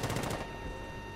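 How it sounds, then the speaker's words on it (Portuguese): A rapid burst of crackling electronic taser fire in a video game, about half a second of quick pulses, then a fading hum. "Tiro não, né? É um taser."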